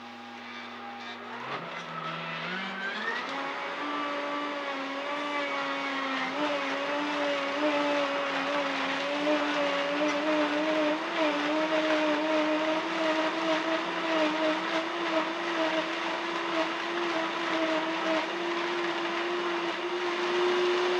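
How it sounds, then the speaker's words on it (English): A Vitamix blender with an AER disc container blends mango and ice at its highest speed, its motor ramping up from a low whir into a loud, steady, rising high-pitched whine that holds for a long stretch. "I'm going to ramp it up to the highest speed."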